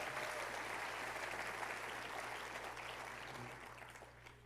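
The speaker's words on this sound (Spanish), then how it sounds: "Levantemos un fuerte aplauso a Dios por todo lo que Él va a hacer en ese congreso." A church congregation claps in sustained, dense applause that slowly fades toward the end, heard from a distance at low level.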